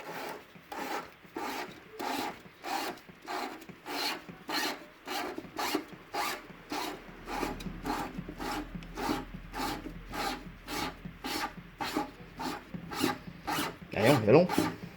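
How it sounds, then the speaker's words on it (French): Wire is rewound by hand onto a spool, making steady rhythmic rasping strokes about twice a second, close and continuous, with no talking. "nous allons rerouler le fil sur la bobine"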